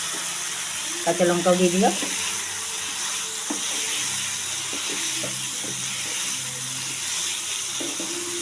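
Potatoes, broccoli and green chillies sizzle and fry in a pan, a steady close hiss with occasional stirring clatter, while someone speaks briefly over it.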